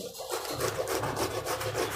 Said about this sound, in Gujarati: છીણીથી આવી રીતે છીણીથી આપણે ક્રશ કરીએ